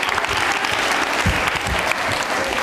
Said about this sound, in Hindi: तालियां बजाइए इनके लिए आप